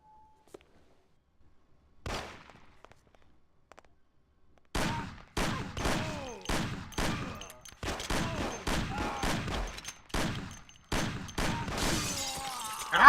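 Gunfire in the original Mafia game: after near silence and a lone shot, a run of loud separate gunshots fires at an uneven steady pace, each with a short ringing tail, ending in a louder burst.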